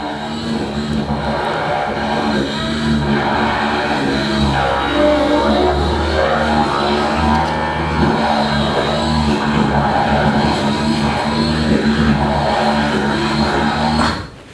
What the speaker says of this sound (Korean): 실제 이 친구가 비행기 날리는 장면이에요